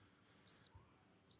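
A crickets-chirping sound effect triggered from a soundboard button, two short bursts of bright high chirps separated by a pause, faint and alone.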